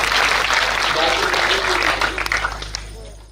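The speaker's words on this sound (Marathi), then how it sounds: "त्यांच्यासाठी जोरदार टाळ्या झाल्या पाहिजे." A crowd at a devotional Harinaam Saptah gathering claps loudly and continuously, then the applause thins into scattered claps and fades out over a few seconds.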